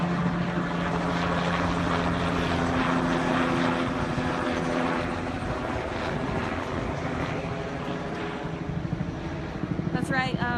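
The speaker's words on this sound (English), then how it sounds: "This is a helicopter." A police helicopter's rotor thumps and turbine whine, steady and fairly close over a Germantown neighborhood during a suspect search, with a voice briefly at the end.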